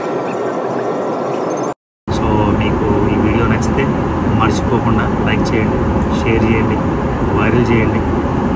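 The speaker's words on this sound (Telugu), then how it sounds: "ఇంకా దుబాయ్లో ల్యాండ్ అయిపోతున్నాం." Cabin noise inside an Emirates airliner landing in Dubai in first class, a loud steady engine and air roar with brief clicks and knocks, broken by one short silent gap.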